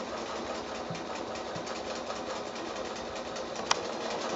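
A sewing machine stitches a quilt block, locking stitches down the side of a letterbox shape, running as a steady close mechanical whir with a fast even rhythm and one brief sharp tick near the end.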